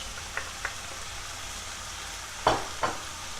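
Carrots frying in a pan with a steady soft sizzle, broken by a few brief stirring scrapes and clacks, the louder ones near the end; no talking.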